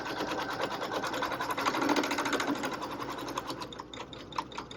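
Sewing machine stitching fabric, a steady, loud, continuous mechanical whir with a fast rapid-fire needle rhythm running throughout, with no voices over it.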